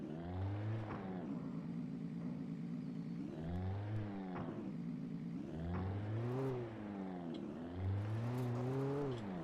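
A truck engine in the video game Alan Wake drones and revs in repeated rising and falling surges, moderately loud and steady, with no voices over it.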